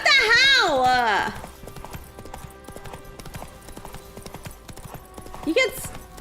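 Roach the horse in the Witcher 3 video game gives a loud whinny, then its hooves clip-clop in a steady, close rhythm, with a short snort near the end.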